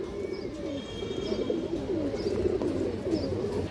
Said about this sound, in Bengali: পিওর ইন্ডিয়ান কবুতর